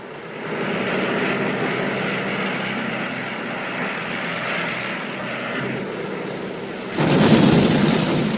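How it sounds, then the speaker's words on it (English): A propeller airliner in flight drones loudly as its left engine begins to fail. The steady engine roar shifts partway through and swells into a rougher, louder burst near the end. "He's losing his left engine."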